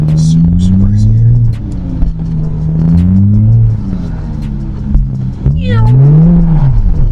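A single-turbo BMW E92 drifts on a frozen lake, its engine revving loudly and rising and falling through several surges up to a sharp final climb. The sound is heard close from inside the car, with people talking over it.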